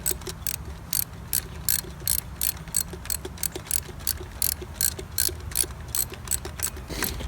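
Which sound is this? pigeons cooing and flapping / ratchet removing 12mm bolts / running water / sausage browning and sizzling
ratchet removing 12mm bolts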